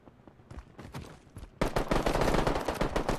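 Gunfire aimed at the player in a video game, starting as sporadic distant-sounding shots and then breaking into loud, rapid sustained automatic bursts, with no talking.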